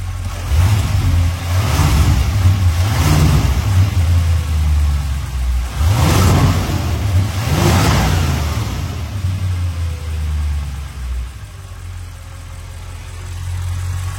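Audi RS7 engine with a modified intake and high- and low-pressure fuel pumps, revved in repeated bursts over a steady idle, four strong rises and falls close by, settling back to a smooth idle toward the end.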